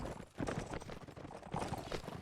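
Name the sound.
horse galloping in a video game battle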